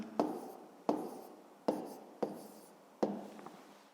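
Handwriting on paper while working a fifth-grade math division exercise: five crisp, evenly spaced strokes of the pen, each with a sharp scratchy attack that fades over about half a second, close and quiet with no talk.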